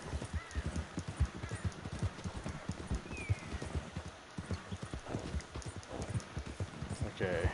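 Horse hooves gallop in a quick, steady clip-clop rhythm close by, with a brief whinny mixed in, in the video game Red Dead Online.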